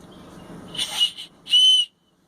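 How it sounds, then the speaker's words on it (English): A loud, shrill emergency whistle on a key ring is blown twice: first a short, broken burst, then a longer, steady piercing blast close by that cuts off abruptly. "emergency whistle with a key ring attachment. Very effective, very loud."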